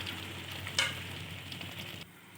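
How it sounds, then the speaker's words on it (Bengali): Poppy-seed pomfret fish curry sizzles steadily in a pan while being lightly stirred, with a brief louder scrape partway through before the sizzle drops away near the end. "এবার একটু হালকা নাড়াচাড়া করে দিয়ে দেব প্লেট ধোয়া জলটা"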